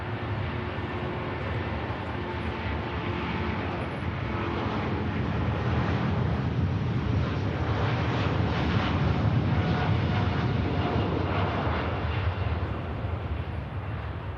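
Boeing 787 Dreamliner taking off at Manchester Airport, a steady broad jet roar that swells slightly through the middle and holds loud and continuous throughout.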